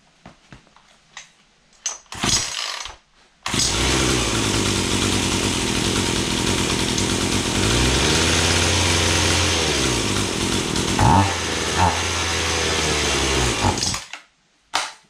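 A faulty chainsaw gets a few hard starter pulls with scattered clatter, then its small two-stroke engine catches and runs loud and close, dipping briefly before it cuts out to silence.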